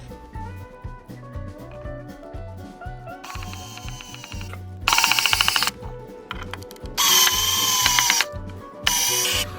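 A power drill drives screws into bookshelf shelves made of 2x6 boards, giving repeated high whirring bursts of varying length over a steady rhythmic background beat.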